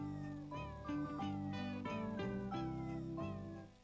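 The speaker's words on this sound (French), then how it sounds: "Celui qui s'appelle Feuilleté au fromage a commencé à miauler" A cat meows repeatedly over a loud version of Jingle Bells with sustained music, its cries sliding from high to low pitch in several drawn-out calls.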